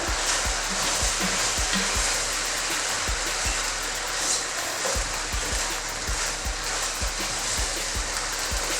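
A pan of pasta sauce steadily sizzles and bubbles on the stove while a utensil stirs it, with repeated soft knocks against the pan over the constant hiss.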